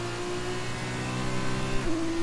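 Onboard engine of a 2019 F2 race car at the Red Bull Ring in a racing video game, a steady high whine holding pitch and then stepping up with a gear change near the end, with no voices.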